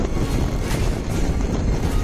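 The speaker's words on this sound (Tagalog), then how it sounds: "Sarap kasi ng hangin dito." Steady, loud wind in Tagaytay buffeting the microphone, a continuous low rumble with gusty roar throughout and no voices.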